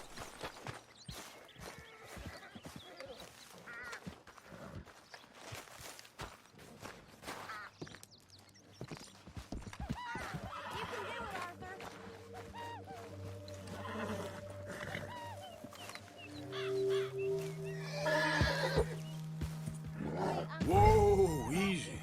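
Horses in the Western video game Red Dead Redemption II, with neighs and whinnies rising toward the end over clip-clopping hooves, a barking dog and game speech in the background.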